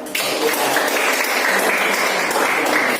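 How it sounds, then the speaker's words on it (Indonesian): A classroom of students claps for a classmate, a dense burst of steady, close applause that lasts a few seconds. "Beri tepuk tangan dulu buat Clara."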